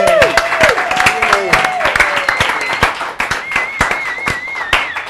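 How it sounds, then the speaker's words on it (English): A studio audience at a celebrity game show cheers and claps, with sharp, loud, irregular hand claps close by and whoops and shouts rising over them. "Please make with the cheering and clapping for Nicole Sullivan and Michael Bunin."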